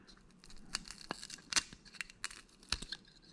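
Tape is peeled and crinkled on an old fishing line spool, a quiet close-up series of short rips and crackles in an irregular rhythm.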